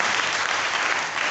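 A church congregation claps in steady, full applause, a dense wash of many hands at moderate loudness from start to finish.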